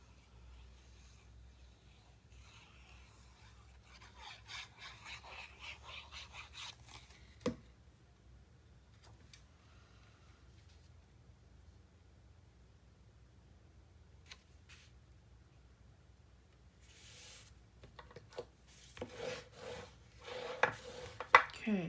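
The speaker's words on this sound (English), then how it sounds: "And then I'm going to burnish it down." Paper being burnished down onto a panel of a 9 x 8.5 mini album, with faint, close rubbing strokes in a few bursts, long quiet gaps, and scratchier handling noises toward the end.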